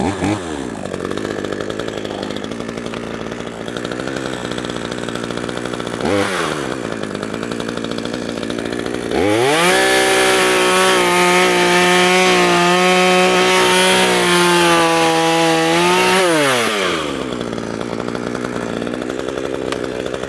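A Craftsman S165 chainsaw runs loud and close throughout, idling steadily before revving to a high, sustained whine for several seconds and then dropping back to a rough idle.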